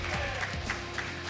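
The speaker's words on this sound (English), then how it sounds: "Give her a round of applause, everybody." Audience applause and cheering from an esports crowd at the ELEAGUE Tekken 7 Team Takedown finals, a steady wash of clapping heard at moderate distance and sustained throughout the short moment.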